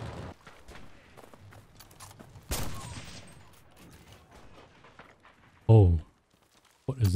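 Gunfire in the video game Counter-Strike, loud sharp bursts of shots that stand out above quieter game noise, with a person speaking in between.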